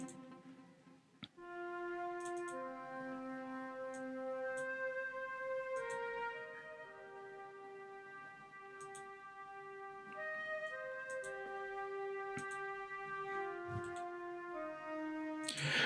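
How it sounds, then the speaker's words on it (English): A synthesized flute preset from the Flex plugin, drenched in reverb, plays a slow melody of sustained, overlapping notes that ring and trail off into the room, alone and clear for deep tech house production. "So the flute with some reverb, they sound like that."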